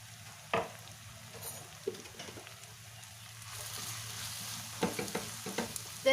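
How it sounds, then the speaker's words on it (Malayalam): Turmeric, coriander and chili powders are stirred into beef curry in a pan: a soft continuous sizzle broken by several sharp spoon-on-pan scrapes and knocks, close and moderately loud, with no talking. "ഇതെല്ലാം കൂടി നന്നായിട്ട് മിക്സ് ചെയ്യാം"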